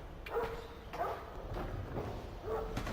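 A dog in the video game Still Life barks a few times, muffled and moderately distant, in a roughly rhythmic series of short woofs against a low background hum.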